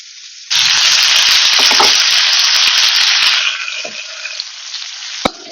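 Prawns with kanthari chilies hit hot oil in a sudden loud burst of frying that crackles intensely, then eases to a softer sizzle, ending with a sharp tap.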